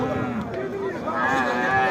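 A cow lows at a Sunday livestock market in Tetouan, Morocco, a sustained near moo over the crowd's noise, with people talking nearby.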